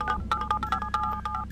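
Electronic phone keypad tones from a horror video game, a rapid series of short, bright dialing beeps in an uneven rhythm, loud and close with no talking.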